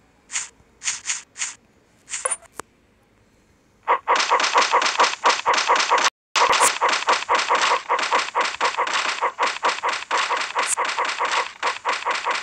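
Cartoonish dog barks from the video game Growtopia: a few sparse yaps at first, then a dense, rapid run of repeated barks that fills the rest of the stretch, loud and close with no talking over it.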